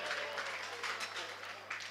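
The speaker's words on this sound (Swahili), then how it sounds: "Wapi makofi ya watu wote?" Audience applause at a talent show in Homa Bay County, Kenya: a dense, steady wash of clapping from a crowd that swells in a few bursts over two seconds.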